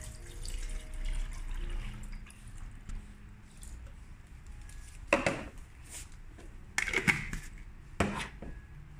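Water poured onto adult diapers during an absorbency comparison, faint running liquid with a few sharper splashing bursts near the end, quiet and close.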